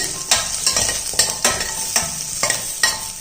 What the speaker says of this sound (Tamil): இப்போ லைட்டாக கொஞ்சம் வதக்கிட்டுக்கிடுவோம்.